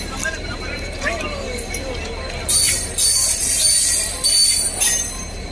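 A passenger train at Khoirabari railway station in Assam, with wheels squealing on the rails and loud hissing, clattering bursts of car noise rolling past up close. Voices murmur faintly in the background.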